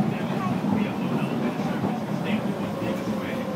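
A commuter rail train rumbles low and steady from inside the carriage, with voices talking over the constant rolling drone.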